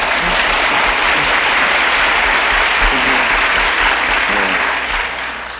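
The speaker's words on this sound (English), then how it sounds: "the solid and sustained applause that I do at the New England rally" An audience at a New England rally breaks into solid, sustained applause, a dense and loud wash of clapping that holds steady before starting to fade near the end.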